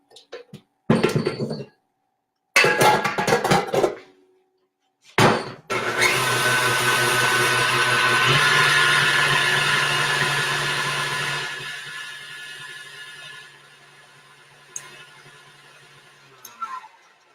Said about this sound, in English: And I'll finish mixing up the egg whites there.